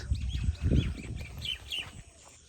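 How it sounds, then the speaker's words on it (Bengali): Birds chirp over open village fields in the morning, giving faint scattered tweets above a low rumble of background noise outdoors. "দেখতে পাচ্ছেন পাখির আওয়াজ।"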